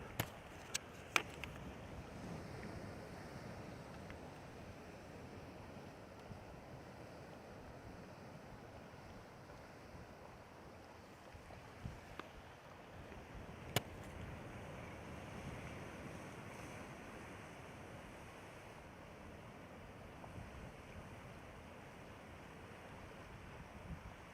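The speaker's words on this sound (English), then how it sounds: "It's a little windy today" Wind gusts over a soft ocean surf at Kona, Hawaii, a low, steady rush with a few sharp knocks and clicks, faint overall.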